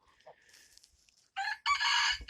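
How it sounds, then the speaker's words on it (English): Small frizzle rooster crowing at a farm coop: a harsh two-part cock-a-doodle-doo, loud and near, following a few faint clucks and rustles. "And our little rooster"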